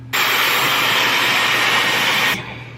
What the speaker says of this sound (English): That took about 27 minutes to blow dry my hair